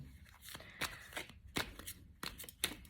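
Quick papery riffles and soft snaps of cards being shuffled, several bursts in an irregular rhythm, close and quiet.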